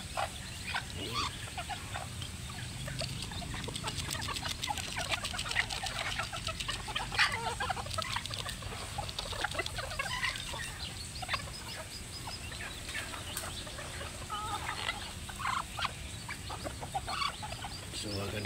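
Chickens clucking and fowl calling in an outdoor yard, a steady busy mix of bird sounds at moderate distance with faint background noise.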